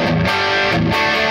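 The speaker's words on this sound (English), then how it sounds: "it's just meant to be an overdrive slash distortion pedal that mimics more of a JCM-800 gain" Electric guitar through an overdrive/distortion pedal voiced for JCM-800 style gain, loud saturated chords with two quick rhythmic strums cutting through a sustained, heavily distorted tone.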